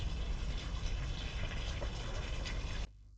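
A water jet from a small solar-powered pump running on a 12-volt panel, a steady close gushing hiss that cuts off abruptly near the end.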